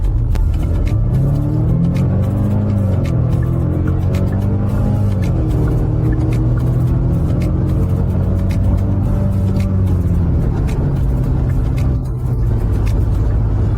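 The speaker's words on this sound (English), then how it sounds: "I've never floored the gas pedal, so perhaps we can start now." A 2025 Genesis GV70 engine roars steadily from inside the cabin at full throttle, its pitch climbing and dropping as it revs hard through the gears.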